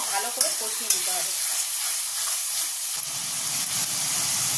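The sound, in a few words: spice masala being stir-fried in oil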